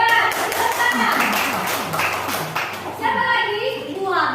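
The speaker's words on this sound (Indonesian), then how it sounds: "Tepuk tangan." Pupils in a classroom clap their hands together, a rhythmic patter of claps mixed with children's voices and a teacher's speech, fairly close and moderately loud.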